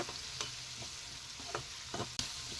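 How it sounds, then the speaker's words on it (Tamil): Onions and tomatoes sauté with salt in a pan, giving a steady quiet sizzle broken by a few scrapes and taps of a spoon as they are stirred, close by with no voices. "தக்காளி நல்லா சாஃப்டாகிற வரைக்கும் நல்லா வதக்கிக்கோங்க"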